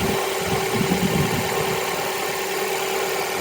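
A Mazda MX-5 engine idles just after an oil change, a steady, even mid-pitched hum with a constant low whine and slight vibration, running alone at close range without revving.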